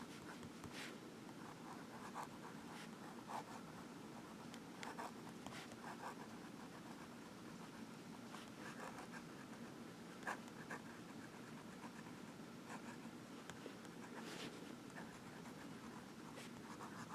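A Diplomat Aero fountain pen nib scratches across paper in soft, continuous strokes with occasional sharper ticks, close but quiet over a steady background hiss.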